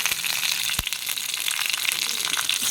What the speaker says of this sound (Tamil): இந்த சைடு கத்திரிக்காய் நல்லா இந்த மாதிரி வதங்கிருச்சு